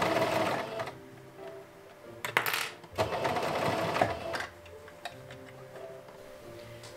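A sewing machine top-stitches fabric seams on a cosplay garment in quick rhythmic bursts of needle clatter, loud and close, with brief pauses between runs.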